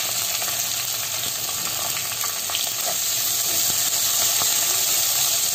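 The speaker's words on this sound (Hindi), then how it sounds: "दो प्याज बारीक कटे हुए डालकर सेकेंगे।" Two finely chopped onions sautéing in a pan with ground ginger and green chilli, a steady, close, even sizzle and hiss of frying that runs throughout with no talk.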